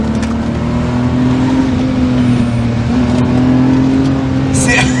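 Engine of a heavily modified BMW E30 droning steadily from inside the moving car, a continuous low rumble with no sharp rev spikes, and people talking over it throughout.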